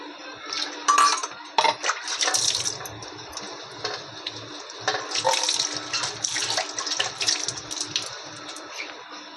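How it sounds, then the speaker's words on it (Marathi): Water pours into a cooking pan while dried bombil chutney is being prepared, a steady splashing run with clinks of utensils and pan, fairly close and continuous. "याच्यामध्ये मी एवढं पाणी घालणार आहे शिजण्यासाठी"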